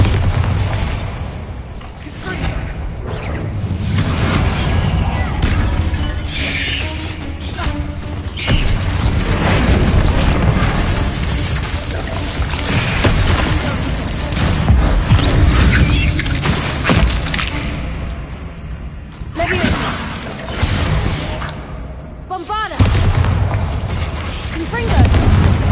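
A Bombarda spell explodes in Hogwarts Legacy, a loud, dense booming blast amid continuous rumbling game effects, with a voice speaking briefly over the din.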